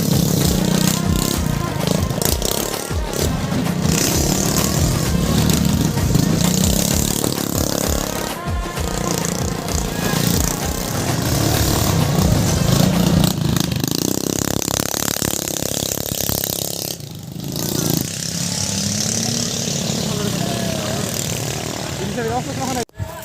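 Scooter-class two-stroke motocross race engines drone and rev steadily at the Damring Motocross challenge, a dense continuous roar that rises and falls as bikes pass, with a brief dip near the end.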